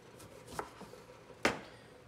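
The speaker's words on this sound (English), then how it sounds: "Now we're gonna cut a lime." A knife cuts through a lime in a home kitchen, giving two short, crisp cuts about a second apart against quiet room tone.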